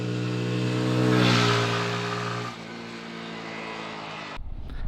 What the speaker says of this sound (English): we'll just have a quick test, I think, of what speed we can get out of this bike